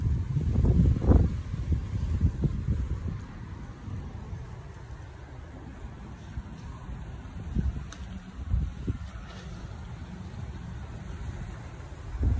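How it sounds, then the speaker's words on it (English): Gusty outdoor wind rumbles and buffets the microphone on a chilly day while someone waits outside, swelling in strong bursts at the start and again later, with faint distant traffic-like noise beneath. "It's windy."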